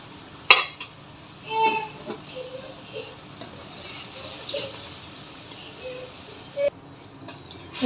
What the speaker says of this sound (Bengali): এখন একটা ছাঁকনি দিয়ে আমি তুলে নিচ্ছি।